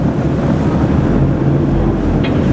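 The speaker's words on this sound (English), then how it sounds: "watching the waves and listening to them, you'll hear what Felix Mendelssohn heard all these years ago, the eternal surge of the sea." Sea waves surging beside Fingal's Cave on the island of Staffa, heard from a boat as a loud, continuous rushing roar with heavy wind buffeting the microphone.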